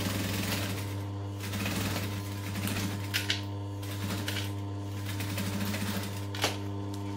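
A sewing machine backstitches a backpack seam, its needle clattering in quick steady runs with brief pauses, under a constant low electrical hum.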